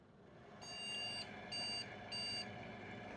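PC motherboard POST beeps from a small beep speaker inside a computer being built: three bright electronic tones, one long then two shorter ones, over a steady fan hum.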